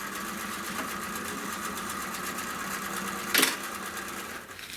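Sewing machine top-stitching fabric sides while making stuffed nativity stable figures, a steady fast mechanical whir running throughout with one brief louder burst near the end.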